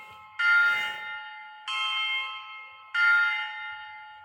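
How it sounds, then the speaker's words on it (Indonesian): A school bell rings in three separate electronic ding tones, each sustained for about a second with clear gaps between them. The tones are moderately loud and come alone, with no talk. "Bel sekolah berbunyi, menandakan waktu belajar telah selesai."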